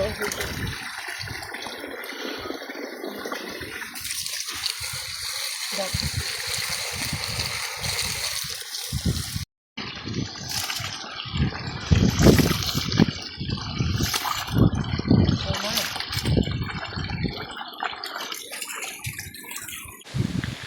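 Rice being rinsed in water for a Sri Lankan feast meal, with sloshing, trickling and splashing water sounds close by, while people talk intermittently throughout.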